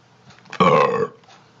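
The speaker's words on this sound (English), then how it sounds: "Got a burp." A single loud, close burp lasting about half a second, voiced and croaky, standing alone against a quiet background.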